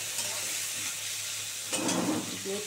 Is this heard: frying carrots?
yes